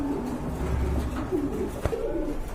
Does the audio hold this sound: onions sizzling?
no